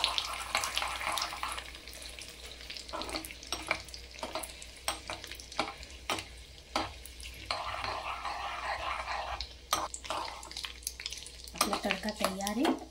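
Tadka tempering with urad dal sizzling and spattering in hot oil for a Mumbai street-style Jini dosa, a fairly quiet steady fry broken by sharp crackles and clinks of a spoon, with a short burst of louder sizzling at the end.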